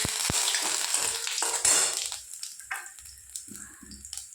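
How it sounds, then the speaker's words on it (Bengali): Whole cumin seeds and a dried chilli hit hot oil in a kadai, giving a loud, bright sizzle with stirring scrapes that gradually settles into quieter crackling and occasional clicks of the spoon. "কড়াইয়ে তেল গরম হয়ে গিয়েছে। এবার ফোড়নের জন্য গোটা জিরে দিলাম, একটা শুকনো লঙ্কা দিলাম"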